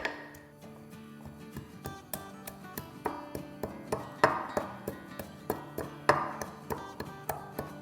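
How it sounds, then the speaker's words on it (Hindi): Two cardamom pods being crushed in a mortar with a pestle, giving a steady series of sharp tapping thuds, close and moderately loud, roughly two strikes per second with no talk over them. "और यहाँ देखिए मेरे पास 2 इलायचियाँ हैं, इसको कूट लेंगे।"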